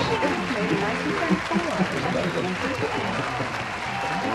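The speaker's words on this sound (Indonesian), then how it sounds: "Beri tepuk tangan" An audience claps steadily after a performance at a school drama event, a dense, continuous patter of applause held at an even level throughout, with a few louder individual claps near the middle.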